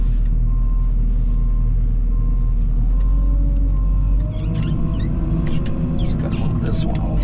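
A car passes on a road beside farm equipment during manure hauling, a loud broad rumble building and sweeping by up close, over a steady heavy engine drone.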